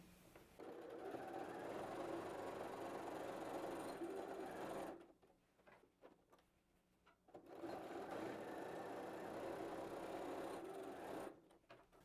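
A sewing machine stitches the bottom of a fabric bag in two quick, even runs of close mechanical whirring separated by a short pause.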